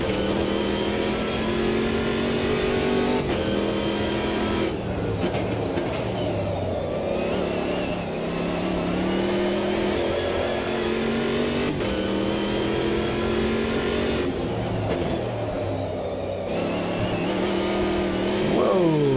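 Race car engines in Automobilista 2 during a sideways-sliding championship race, a continuous high revving drone that rises and drops with gear changes and throttle lifts, loud and close without speech.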